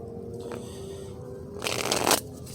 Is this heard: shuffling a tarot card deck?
yes